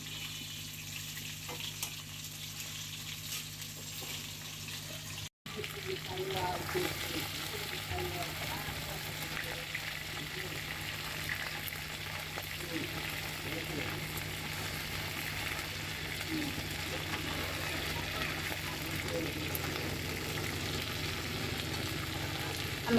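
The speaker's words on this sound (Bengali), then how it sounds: "হালকা করে ভেজে নিব মাছটা।" Hilsa fish lightly frying in oil in a pan, a steady soft sizzle close by that fills the whole stretch after a brief cut near the start, with a low background hum and a voice talking faintly.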